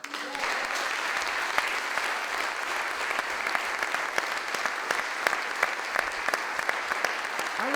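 Sustained audience applause at a CUNY community event in 2009, a steady dense patter of many hands clapping throughout, fairly close and even in level with no talk over it.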